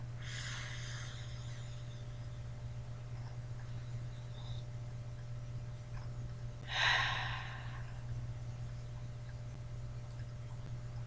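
A person breathes deeply in a grounding exercise, with soft airy inhales early on and one clearer, longer breath near the middle over a steady low hum, fairly faint and close.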